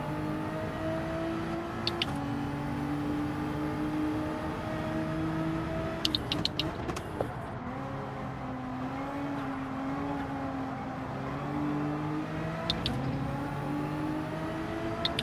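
An F3500 race car engine laps Monza in Gran Turismo 7, a steady droning whine that rises and falls with gear changes, with brief clicks of shifts scattered through.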